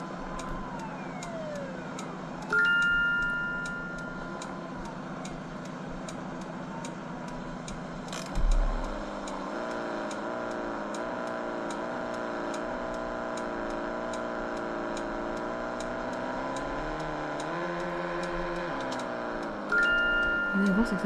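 A car being driven, with a steady engine and road drone running throughout, a few brief clicks and bumps, and faint voices talking over it.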